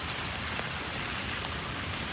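Heavy rain from Cyclone Fengal pours steadily over Chennai, a dense, continuous hiss of downpour on surfaces with no break, close and loud throughout.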